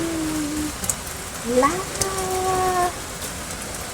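Steady rain falling through the night pattering on surfaces around a home, a constant hiss beneath a voice that speaks briefly in the middle.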